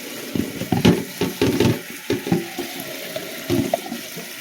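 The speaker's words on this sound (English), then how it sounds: "so once I do this, rinse them off" Running water rinses freshly foraged herbs at a sink, splashing and spattering in uneven bursts as the leaves are moved under the stream, close and fairly loud.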